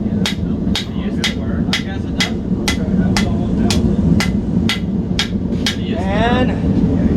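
A hammer forging a tomahawk blade, with steady evenly spaced ringing strikes on hot steel during final smoothing and beveling, close and loud over a constant low machine rumble.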